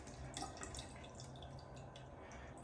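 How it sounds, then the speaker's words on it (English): Water sputters and splashes unevenly from a pipe while trapped air escapes from the line, a faint, irregular gurgling and spitting that fills the short stretch without talk. "It's got air in the line, it's escaping."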